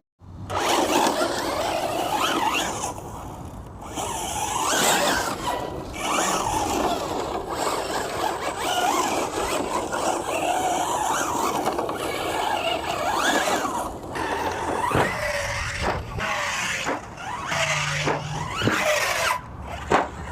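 Hobao Hyper10 SC 2.0 RC short course truck running off-road, a whining electric motor rising and falling with throttle bursts and gravelly tire noise, close and continuous throughout.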